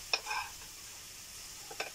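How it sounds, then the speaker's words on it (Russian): Champignon mushrooms fry in a pan with a soft constant sizzle. Two brief utensil scrapes and clinks come from stirring near the start and end. "Так, буду шампиньоны жарить сейчас."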